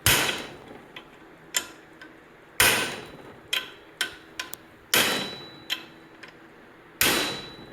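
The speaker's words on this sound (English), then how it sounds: "You're hammering on the yoke." Heavy metallic hammer blows on the yoke of a Kawasaki Mule 4010 propshaft held in a vise ring out at intervals, each loud strike followed by a few lighter taps and a brief decaying clang.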